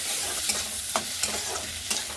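Dried red chilli pieces, bay leaf, ginger, chopped tomato and green chilli fry together in a pan with a continuous close sizzle, punctuated every half-second or so by brief scrapes and taps as the mixture is stirred.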